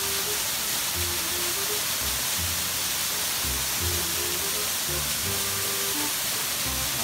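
Water rushes down a waterfall up close, a loud, unbroken roaring hiss that fills the whole span, with a low rumble underneath.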